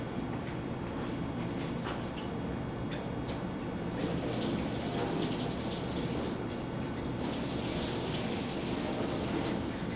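Hot water runs from a tap into a cup in a steady, continuous splashing stream that grows a little fuller and louder partway through, with no talk.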